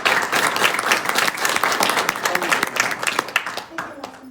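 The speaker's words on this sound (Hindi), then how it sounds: "इनके लिए विशेष ताली हो" An audience at a school award ceremony claps loudly and continuously, a dense, steady applause that fades slightly toward the end.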